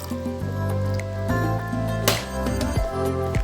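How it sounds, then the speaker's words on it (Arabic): About a quarter of a small cup of vinegar is poured into a chicken marinade with pomegranate molasses, making a close, loud, gurgling stream with a few splashy bursts throughout. No speech. "هضيف كمان حوالي ربع كوبايه خل صغيره"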